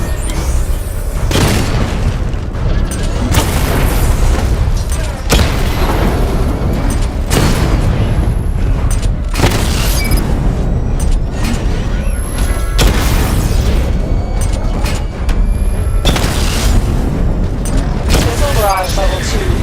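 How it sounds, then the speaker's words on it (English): Missile barrage explosions in a Batman video game, with repeated heavy booms and rumbling blasts in a dense, loud, continuous stream while a voice speaks over the action. "Charge the missile barrage to level 2 to destroy up to 4 targets at once."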